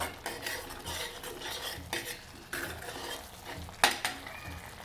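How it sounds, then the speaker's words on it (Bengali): Spice paste stir-fried in a pan with a spatula while making a vegetarian pigeon pea dal with spinach, with repeated scraping strokes and a low sizzle, close and steady, and no talking. "এটা এবার ভালো করে আমাকে মশলাটাকে কষাতে হবে।"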